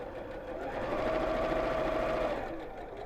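A sewing machine runs in one steady, moderately loud burst while stitching across the flap of a child's drawstring backpack, with a brief start and stop at either end.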